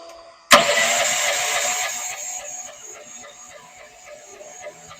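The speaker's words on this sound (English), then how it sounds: "This is a high power pressure washer. You want to hear it?" A high power pressure washer bursts into loud operation all at once, then keeps up a steady, broad, hissing roar that eases a little toward the end. No one speaks.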